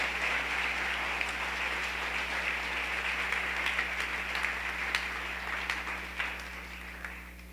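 A church congregation applauds its King in a Sunday service, steady dense clapping sustained throughout at a moderate distance, with a constant low hum underneath and a few sharper claps standing out near the end.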